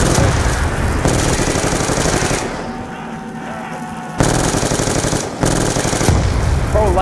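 Sustained automatic gunfire from Black Ops II Zombies played on Xbox One, loud, dense and rapid, with a brief lull in the middle before the bursts resume at full strength.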